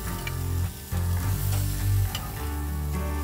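Close, steady sizzling and crackling of food cooking on a hot grill, with a low hum underneath.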